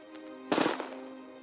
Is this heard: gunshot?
yes